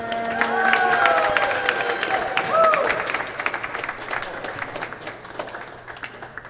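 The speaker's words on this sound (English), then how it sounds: "please give a round of applause to world number 56 from England, Simon, the gingerbread man, Herbert" A crowd at a squash league match claps and cheers for a player being introduced, steady applause that peaks early and then thins into scattered claps, with a voice heard briefly over it.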